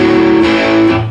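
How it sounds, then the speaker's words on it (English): A single loud, ringing distorted electric guitar chord, played without palm muting on a song, left to sustain openly and fading slightly at the end. "if we didn't use the palm muting, it would sound like this"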